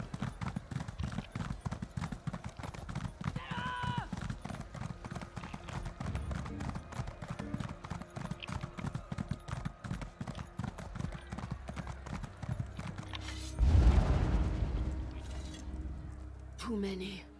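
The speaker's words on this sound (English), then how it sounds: "Let's get on a horse" Steady, rhythmic clip-clop of horse hooves while riding in the Elder Scrolls Online video game, continuous throughout with brief game sounds over it.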